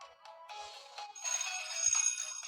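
A school bell or ringtone sounds at moderate distance, starting in faint bursts and then settling into a sustained tonal ring that fills the rest of the moment, with no speech over it.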